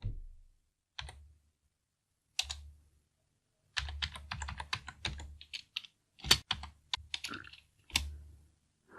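A new user password is typed on a computer keyboard in quiet, separate bursts of keystrokes: a few single taps first, then a faster run of clicks with short pauses, close and alone.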